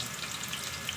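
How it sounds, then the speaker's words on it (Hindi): A mother frying food in a kitchen pan while making karela, with a steady low hiss of sizzling oil throughout, fairly quiet and unbroken, no voices. "यहाँ ये मम्मा फ्राई कर रही है"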